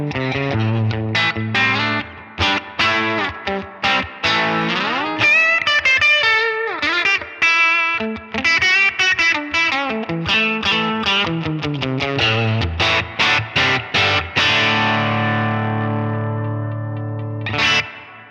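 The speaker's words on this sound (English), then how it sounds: "But if we're playing something that maybe we don't want the sound swimming in the reverb, but we still want kind of a big reverb," An electric guitar runs through a big reverb on a Line 6 Helix, with lush chorus and a slight drive. Melodic phrases and sustained chords ring out loud and alone, their tails swelling and decaying into the space.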